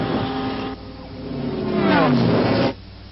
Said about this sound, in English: That bike race chase is one of the best scenes in the movie